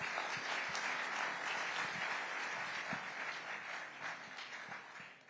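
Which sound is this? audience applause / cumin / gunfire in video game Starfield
audience applause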